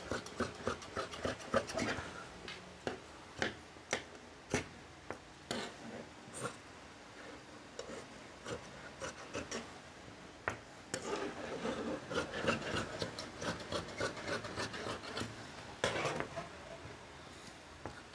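Scissors cut through kameez sleeve fabric along a marked margin during tailoring, giving a series of short crisp snips and rasping slides, nearby and moderately loud, with no one speaking.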